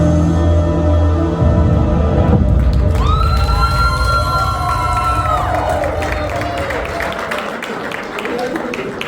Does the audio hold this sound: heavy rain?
no